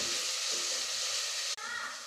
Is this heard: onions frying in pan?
yes